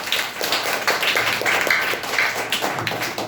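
Audience clapping for someone speaker at a nature-themed public speaking competition: a steady, dense patter of many hands that continues throughout at even loudness.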